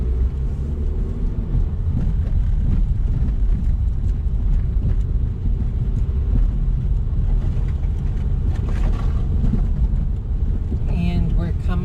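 A manual-transmission car pulls forward on a hill as gas is applied, a steady low engine drone and road rumble heard from inside the cabin, continuous and fairly loud, with some wind noise and faint clicks near the end.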